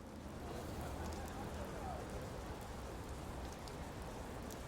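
Rain falls steadily in The Flower Collectors video game, a soft continuous hiss of drops on surfaces that stays faint and even throughout.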